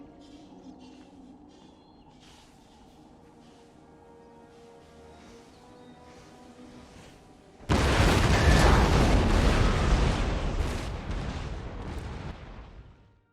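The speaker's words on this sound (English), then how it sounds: "Big old artillery battery." A big artillery battery fires in Empire: Total War, a sudden loud roaring barrage that bursts in after quieter battle ambience and rumbles on for several seconds before fading.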